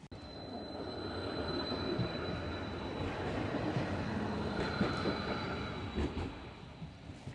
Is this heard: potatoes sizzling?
no